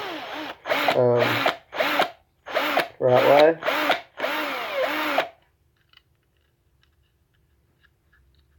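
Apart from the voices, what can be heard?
power drill drilling diecast car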